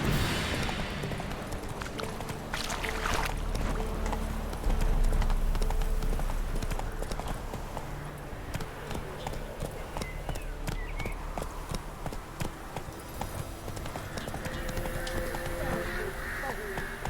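Horse galloping in The Witcher 3, a fast continuous clip-clop of hooves that carries through the whole stretch under game music and ambience.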